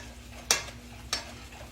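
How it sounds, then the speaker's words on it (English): Chocolate gravy mixture being stirred in a pan, two brief scraping strokes of a utensil against the pan about half a second apart over a quiet, steady background, with no talking. "And I'm going to mix that in."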